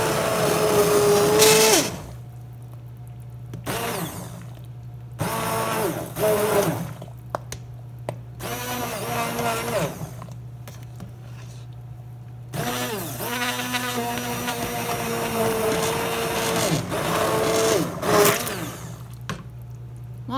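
A blender purées creamy yellow squash soup in short, loud bursts separated by pauses, its whirring motor rising and falling in pitch with a steady hum underneath.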